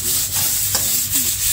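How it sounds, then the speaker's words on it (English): Seasoning sautéing in a curry with chickpeas nearby, a brief close bout of stirring and soft sizzling with scraping rubs against the pot. "I sauté them in the curry."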